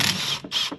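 A rear differential cover is pried off a vintage Scout axle, giving two harsh metallic scraping creaks, close and loud, separated by a brief pause.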